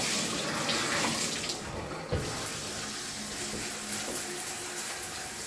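Shower water runs steadily during a leak test after tightening the fixture's screws, a constant close hiss and splash that holds evenly throughout with a brief knock partway.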